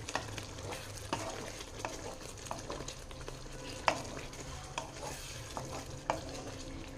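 Stuffed brinjal gravy with coconut powder is stirred in a pan, with repeated spoon clicks and scrapes over a low, steady simmering sizzle. No one speaks.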